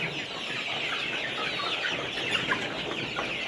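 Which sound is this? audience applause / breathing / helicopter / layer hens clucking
layer hens clucking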